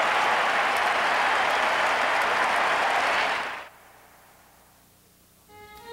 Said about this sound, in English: On May 8th, delirious crowds celebrated VE Day.